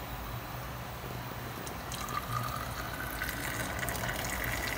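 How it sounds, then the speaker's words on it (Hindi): Chai bubbling and frothing over from a heated clay matka pot, a faint continuous hiss and gurgle of boiling liquid that swells slightly toward the end. "ये देखिए उबाल आ रहा"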